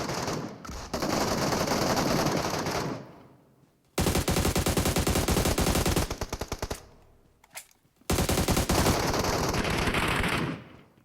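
Rapid bursts of MK14 rifle fire in PUBG Metro Royale, several long volleys separated by brief pauses, loud and close.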